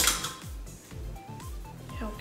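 Someone rummages among dishes and utensils to fetch a spatula in a home kitchen. Several light clinks and clatters of crockery and metal ring out close by in quick, irregular succession.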